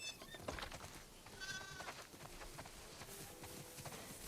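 Sheep bleat in The Last of Us Part II as a farm flock is herded toward a barn, several short wavering calls at moderate distance over soft ambient game sound and light hoof clatter.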